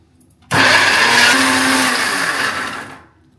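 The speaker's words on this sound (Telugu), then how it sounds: "ఇప్పుడు మిక్సీ కొట్టేసుకుందాం." Mixer grinder blending Kadapa Rayalaseema-style red chilli paste, starting abruptly into a loud, steady whirring roar for about two and a half seconds before winding down; no voices.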